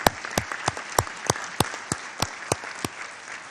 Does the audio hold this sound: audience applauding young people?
yes